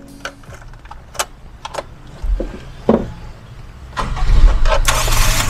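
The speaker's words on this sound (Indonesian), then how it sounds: "Oke, kita nyalain mesinnya ya." A Toyota Kijang Super is started, with a few clicks and key jangles, then a cranking starter near two seconds and the engine catching at four seconds into a loud, steady close idle.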